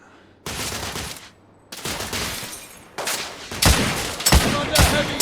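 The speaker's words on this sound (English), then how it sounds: "I'm under heavy fire!" Heavy gunfire in the Victorian-era shooter The Order: 1886, loud rattling bursts in several waves with brief gaps, growing denser and sharper toward the end.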